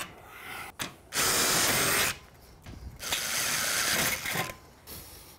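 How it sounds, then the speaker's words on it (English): Two sustained bursts of a power drill pre-drilling screw holes in wood, each running about a second, separated by brief pauses, close and fairly loud with no talking. "We're gonna pre-drill in a few locations."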